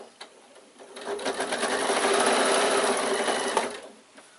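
A sewing machine stitches straight across the lining of a baby away-day bag, one continuous run that speeds up and then slows to a stop, close and steady with no talk.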